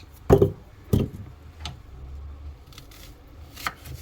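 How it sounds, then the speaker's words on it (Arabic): A knife chops an onion on a board for a spinach soup with rice and chicken, giving a few sharp, close thuds at irregular intervals with soft pauses between. "بدي افرم عليه حبة بصل."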